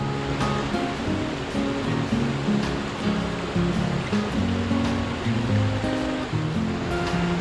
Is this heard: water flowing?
yes